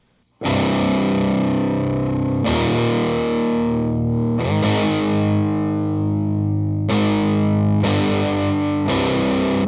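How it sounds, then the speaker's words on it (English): A distorted second electric guitar plays a riff of sustained, heavy chords, restruck several times, loud and close with no voices. "the second guitar comes in and sounds like this."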